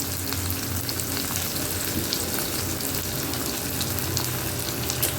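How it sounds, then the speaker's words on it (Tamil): Green chilies frying lightly in oil for poori masala, a steady dense sizzle crackling evenly throughout, close and loud with no voices. "பச்சை மிளகா வந்து நல்லா அந்த எண்ணெயில் லைட்டாக அப்படி பொரிஞ்ச மாதிரி"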